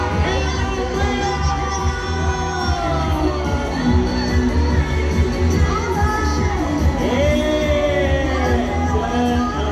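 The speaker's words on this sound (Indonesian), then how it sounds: "Boleh kita beri tepuk tangan buat Ella Freya." A large crowd cheers and whoops for Ella Freya on the second day of IGX 2025, a dense, steady roar with excited shouts rising over it throughout.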